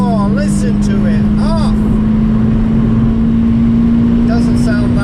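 A Honda EP3 with an ITG Maxogen induction kit and stock exhaust drones loudly and steadily while driving, recorded from inside the car, with voices talking over the engine.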